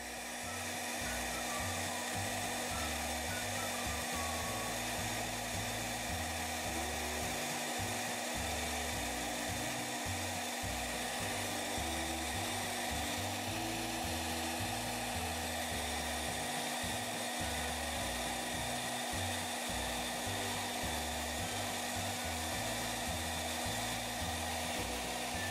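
Hot air blower heating the forearm of a G.I. Joe Marauder action figure, a loud, steady whooshing hum that runs alone without pause.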